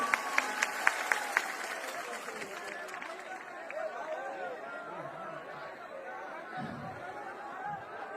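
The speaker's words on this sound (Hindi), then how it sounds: "एक बार पुनः जोरदार ताली बजाकर उनका स्वागत करें।" At an election rally welcoming Smriti Irani, a brief burst of scattered clapping comes early, then fades into steady crowd chatter and murmuring voices.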